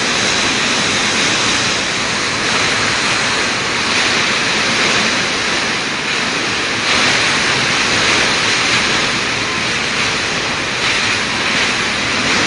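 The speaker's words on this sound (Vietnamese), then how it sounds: "Ở trong này gió to sơ quá." Strong storm wind roars steadily and loudly throughout during a typhoon making landfall in Quang Ngai, Vietnam, a dense continuous rushing noise with no pauses and no audible talk.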